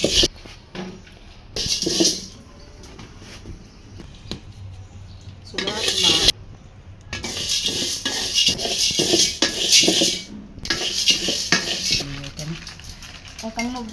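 Lentils frying in a pot for khichuri over a homemade stove, with bursts of metal utensil scraping and stirring against the pot, loud and close, separated by quieter gaps and a faint sizzle underneath.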